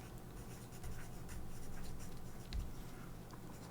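White charcoal scratches across pink paper in a steady run of close, dry strokes that rise briefly around the middle, with no one talking.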